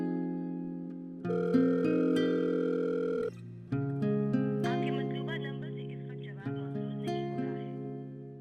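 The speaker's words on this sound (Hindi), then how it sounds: "अफजल को फोन करता हूं।" Telephone ringback tone of an outgoing call, a series of long electronic tones separated by short gaps, clear and close with no talking.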